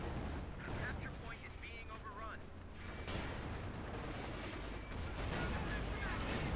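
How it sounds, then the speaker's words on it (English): Combat in the video game Company of Heroes 2, with bazooka fire and a Pershing tank cannon booming amid dense, continuous gunfire and explosions, a voice speaking over the din. "Just the sheer volume of bazooka fire, plus the cannon of the Pershing just really does a ton of damage"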